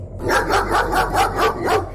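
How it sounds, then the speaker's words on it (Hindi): Dogs bark and yelp in pain in a rapid series of about six evenly spaced, loud, strained barks over a low, constant background hum. "उन्होंने अचानक कुत्तों की चीखने, चिल्लाने और भौंकने की दर्दनाक आवाज सुनी"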